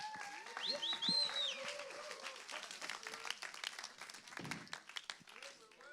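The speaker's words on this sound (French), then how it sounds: "Alors, je te laisse encourager, applaudir Stéphane et Ruben qui me rejoignent sur scène." A church congregation claps and cheers as two people come on stage, scattered applause mixed with prominent music and voices, fairly quiet and uneven.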